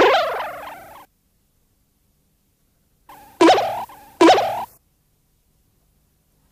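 A noisy, turkey-like bird gobbles loudly: one long gobble, a pause of silence, then two more quick gobbling bursts close together, with no talking.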